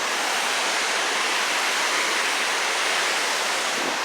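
A river rushes steadily below a dam, a loud, continuous broadband roar of flowing water that holds even and unbroken throughout, with no voices over it.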